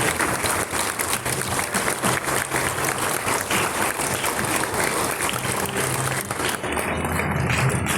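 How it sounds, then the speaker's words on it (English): A crowd applauds steadily and loudly for a gold medal winner at a ceremony, the dense clapping running the full length with faint voices mixed in. "Round of applause for John Borlang."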